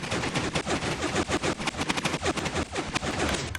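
A video game weapon, heard in the game Omegus, fires in a loud, rapid automatic burst of gunshots that continues without a break.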